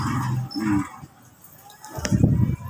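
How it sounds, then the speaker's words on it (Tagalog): A dog shut inside a bag whimpers and yips in short bursts close by, muffled and broken up, with low rustling and movement between the calls. "May aso sa loob na bag."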